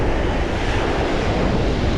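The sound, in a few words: Lake Erie beach with waves and wind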